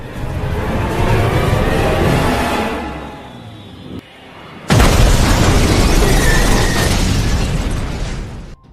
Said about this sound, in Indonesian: Dia mendorong mobil mereka hingga masuk ke jurang dan meledak.